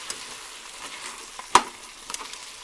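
Onions cooking in a soup pot sizzle steadily while being stirred, with a few scraping knocks, one louder clack near the middle and no voices.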